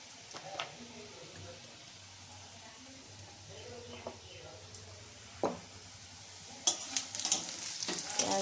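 Onion fries with spices in a pan under a low, steady sizzle, with scattered spoon scrapes and knocks as it is stirred; sharper clatter toward the end.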